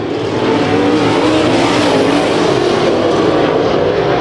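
Race cars roar around the Kings Speedway dirt track in a heat race, a loud, sustained, near engine howl with several cars bunched together, steady throughout and with no speech.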